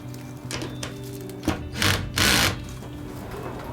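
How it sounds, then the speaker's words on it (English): A screwdriver drives a screw into a greenhouse frame, heard as several short grinding bursts and rattling clicks, the last two louder, up close. "Get my trusty screwdriver."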